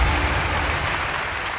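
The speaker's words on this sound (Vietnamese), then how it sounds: "một tràng pháo tay thật to nè, Quỳnh Vi" Applause from a television singing-show audience: a brief, steady burst of dense clapping at moderate loudness with no speech over it.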